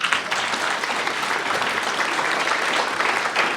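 Steady, dense applause from an audience at a Catholic Citizens of Illinois event, sustained clapping filling the room without a break and with no talk over it.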